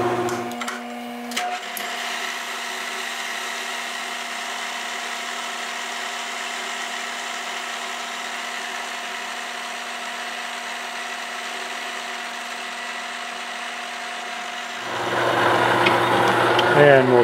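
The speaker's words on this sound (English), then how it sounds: "We'll go ahead and get our part faced off." A metal lathe faces off a machined coupler part for a Schuler MS-750 feed/mixer wagon, giving a steady humming whine with tonal overtones that holds evenly, then turns louder and rougher near the end.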